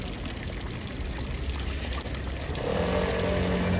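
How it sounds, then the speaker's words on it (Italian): Water splashes and pours from sea monster fountains in a town piazza, a steady broadband wash of running water that grows a little louder and fuller near the end. "Nella piazza abbiamo le due fontane dei mostri marini, questa è una, quella un'altra"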